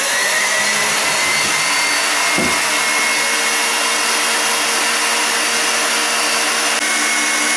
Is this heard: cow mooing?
no